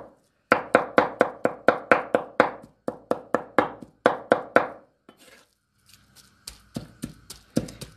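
Meat being pounded in a kitchen for Persian kebab koobideh, a run of about a dozen sharp, rhythmic thuds, then a pause and a few scattered knocks and clatters, close and crisp.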